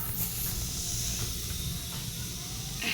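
Githeri sizzles in oil over a fire: a steady, close, hissing fry with a broad crackle that holds evenly throughout, with no talk.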